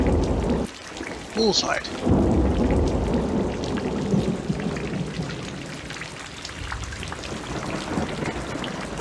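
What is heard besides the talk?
heavy rain and thunder in video game Corpse Party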